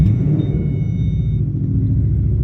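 A supercharged, cammed Ford Mustang engine idles loud and close, a deep continuous rumble with a faint whine riding above it and no pauses.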